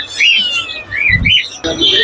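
Diamond doves in a caged bird stall at an animal market give short soft calls and chirps, close and fairly loud, with market noise and brief human sounds mixed in.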